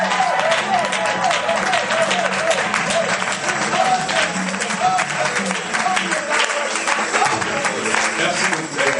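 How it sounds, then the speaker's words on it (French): Church congregation at a Sunday service in Mons breaking into sustained, loud applause with scattered shouts and voices mixed in, continuing steadily for the whole stretch. "Une offrande d'applaudissements pour le roi des gloires."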